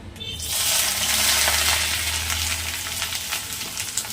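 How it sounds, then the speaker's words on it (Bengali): Chopped onion, green chili, ginger and garlic hit hot oil with a loud burst of sizzling that settles into a steady crackling fry, with light stirring scrapes near the end. "তেলের মধ্যে দিয়ে দেবো পেঁয়াজ কুচি, লঙ্কা কুচি আর আদা রসুন"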